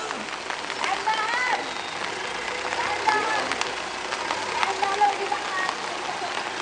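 Rain patters steadily around an idling 2011 Mitsubishi Montero Sport SE. A low engine hum sits beneath the dense drizzle, and people talk nearby throughout.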